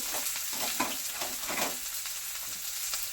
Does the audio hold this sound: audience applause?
no